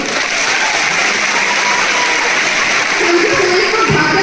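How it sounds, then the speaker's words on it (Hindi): An audience at a sales promotion event gives loud, steady applause that fills the whole stretch, with a voice briefly rising over the clapping near the end. "एक बार दिल से जोरदार तालियां दोस्तों"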